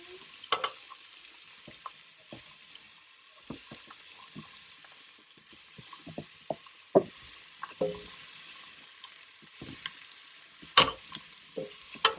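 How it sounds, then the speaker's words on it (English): Garlic frying in a pan and stirred, a quiet bed of sizzle broken by repeated sharp scrapes and knocks of the utensil at an irregular rhythm, close by and without talk. "Now I'm going to stir it up. So the garlic will be brown."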